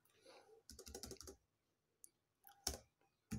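Short bursts of clicking keystrokes on a computer keyboard as a number is entered, close and fairly quiet, separated by silent gaps, with someone speaking French between the bursts.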